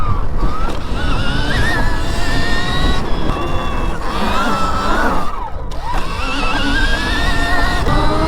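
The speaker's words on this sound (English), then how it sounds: "I'm going to hop on the bike and we're going to jump this a few times" A Stark Varg electric dirt bike rides and jumps, its motor whining up and down in rising and falling pitch sweeps over a loud, constant rushing of wind and terrain noise, close to the rider.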